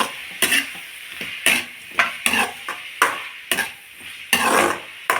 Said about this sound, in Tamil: நம்ம வெண்டைக்காவை வசத்துடலாம் இதையும் இது கூட போட்டு நல்லா மிக்ஸ் பண்ணுங்கள்